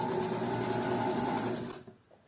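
A sewing machine runs fast along a seam in fabric, a close, steady buzzing whir that stops abruptly near the end.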